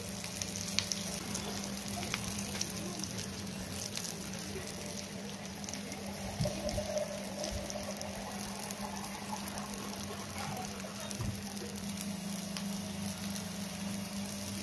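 Ragda pattice potato patties fry in oil in a pan, a continuous soft sizzle and crackle with a steady hum underneath, occasional light clinks of a utensil, no talking.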